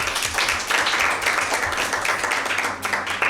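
Studio audience clapping for a correct answer at a Bible quiz show, a dense, steady wash of many hands that carries on for the whole span at fairly loud level, with no talking over it.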